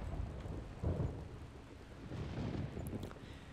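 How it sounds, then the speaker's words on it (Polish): Rain and deep rolling thunder in the video game Sacrifice, a steady wash of rainfall with low rumbling swells throughout, heard alone without speech. "Deszcz zaczął padać, zrobiło się ciemno."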